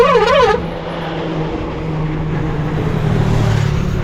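A bus travelling at night from the Konkan toward Mumbai gives a steady engine drone and road rumble close by, with a short warbling electronic tone over it at the start.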